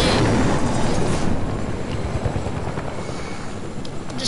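A helicopter in a Deadpool video game, its rotor throbbing loud and close as a dense, continuous low roar that eases slightly toward the end.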